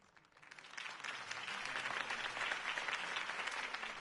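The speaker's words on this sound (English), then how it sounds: "could have heard that applause" Applause from a crowd in the game Batman: The Telltale Series swells up quickly after a political campaign speech and holds steady, a dense wash of clapping heard at a moderate distance.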